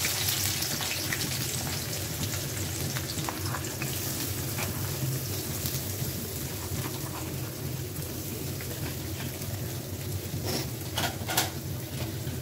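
Dried fish frying in a pan, a dense, continuous hiss and crackle like rain that holds steady for the whole stretch, with scattered small pops and no speech.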